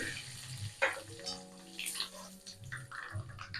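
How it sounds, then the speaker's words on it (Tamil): Mustard seeds and urad dal being tempered in hot oil, giving a faint, low crackle and sizzle under a steady tonal hum in a home kitchen. "கடுகு, உளுத்தம்பருப்பு தாளிச்சிட்டோம்"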